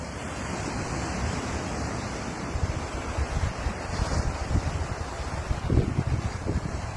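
Sea waves break steadily on a beach in Sri Lanka, a continuous broadband wash of surf with rising swells and wind noise on the microphone, loud and close with no voices.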